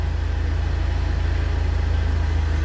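Hydraulic pump of a Citroën C5 Hydractive with a suspension fault, running while the engine idles: a steady close-up low hum with an even pulsing throb and no talk.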